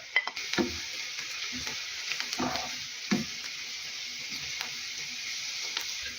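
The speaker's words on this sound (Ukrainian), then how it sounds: "І буду сюди додавати морку, хай трошки теж смажиться." Onion and carrot frying in a pan, giving a steady sizzle with a few louder stirring scrapes and clatters, close by and moderately quiet, with no talk.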